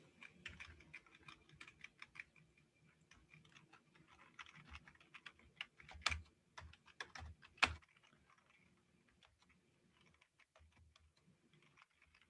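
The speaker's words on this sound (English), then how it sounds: "My very creative keyboard." Typing on a computer keyboard, quick irregular clatter of key presses in bursts with a few louder clacks, faint and close, with no one talking.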